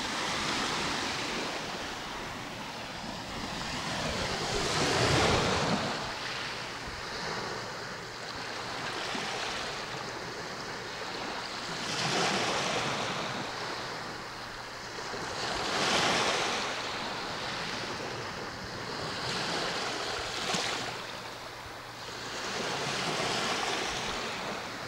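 Wind blowing steadily at the seaside on the Baltic coast at Międzyzdroje, with a broad roar that swells and fades in gusts mixed with surf and microphone buffeting.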